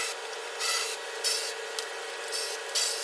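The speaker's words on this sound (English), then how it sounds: "So I got my cordless ratchet here with 10 millimeter on it." A cordless ratchet with a 10 mm socket zips out fasteners holding the aerodynamic underbody cover of a 2018 Ford Fusion, giving a steady close whirring with several short louder surges in a row.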